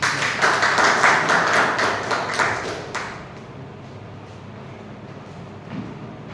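Audience at a Toastmasters club meeting gives a round of applause, fairly close clapping from a modest group lasting about three seconds before tapering into room quiet.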